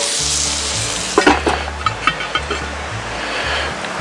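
Potatoes, onions and sausage frying in a pan at a mountain campsite for a mountain man breakfast, a loud, steady sizzle with a few sharp scraping and clinking stir strokes partway through.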